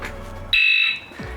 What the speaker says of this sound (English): it's going to let you know it's got an alarm on it by that audible annoying chirp